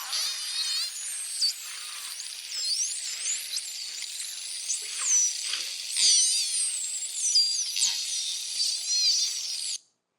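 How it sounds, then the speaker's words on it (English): Short-beaked common dolphins recorded underwater give off dense overlapping high-pitched whistles and chirps that sweep up and down continuously, with faint clicks, before stopping abruptly. "short-beaked common dolphin."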